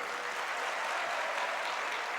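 Sustained applause from an audience at a university function honouring a registrar, steady dense clapping filling the whole stretch with no voices over it.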